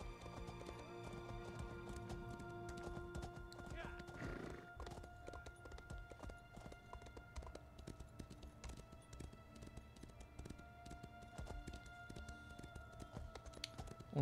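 Steady clip-clop of horse hooves while riding along a path in the video game Elder Scrolls Online, an even trotting rhythm throughout with a brief whinny early on, over a soft game music bed.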